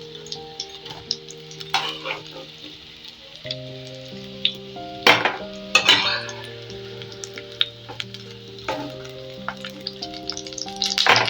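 Bhola fish fingers sizzle in hot oil with a steady crackling hiss, punctuated by clinks and scrapes of a utensil against the pan as the pieces are lifted out.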